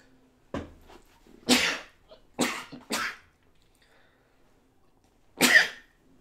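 A few sharp explosive bursts from one person, close and loud, like sneezes with a cough, separated by silence.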